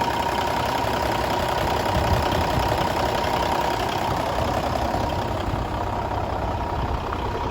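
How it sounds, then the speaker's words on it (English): A red-head Cummins diesel idles in a 2016 Kenworth T800 glider with dual stacks, a steady, loud, even rumble that holds unchanged throughout with no voices. "Highly sought after red-headed Cummins."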